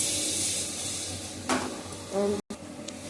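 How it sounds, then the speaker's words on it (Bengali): Diced papaya is stir-fried and tossed in oil with a pinch of salt, a soft steady sizzle running beneath occasional scraping stir strokes and a clink of the pan, followed by a sharp brief cut. "জাস্ট একটু তেলের উপর নেড়ে নিয়ে সামান্য একটু নুন ছুটে দিয়ে দেবো, দিয়ে নেড়ে নামিয়ে নেবো।"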